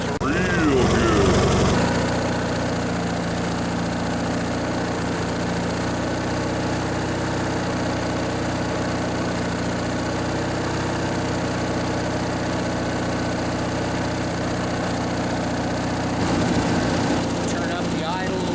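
A lawnmower engine idles steadily while warming up after a repair, a constant low mechanical drone with vibration that holds even for most of the stretch, with brief louder bursts near the start and end.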